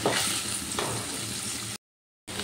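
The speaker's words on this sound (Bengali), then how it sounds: "তেলের মধ্যে হালকা করে ভেজে নেব, জাস্ট একটু এপিট ওপিট করে নেব।" Paneer pieces fry lightly in hot oil, giving a steady close broadband sizzle with no speech that drops to silence for about half a second before resuming.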